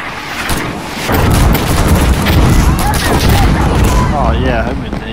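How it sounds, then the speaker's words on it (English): Frag grenade blast in the tactical shooter Insurgency: Sandstorm, a heavy rumbling boom that kicks in after a second and rolls on loudly with gunfire crackle, while players talk over it. "I'm throwing a frag!"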